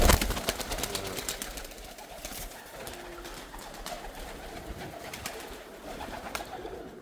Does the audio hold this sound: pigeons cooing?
yes